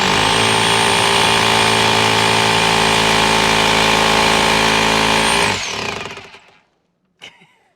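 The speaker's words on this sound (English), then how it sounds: "You're going to use your impact chisel." A loud, steady pneumatic impact chisel runs continuously with a high whine, then winds down and cuts off, leaving a brief clunk afterward.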